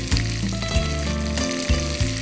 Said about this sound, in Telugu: చాలా తొందరగా ఫ్రై అయిపోతుంది ఆకు కదా.